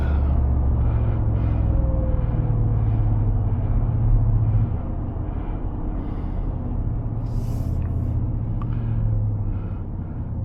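A 700-horsepower street truck on 24-inch wheels idles with a deep, steady engine rumble, loud and close, settling slightly lower partway through with faint ticking above the drone.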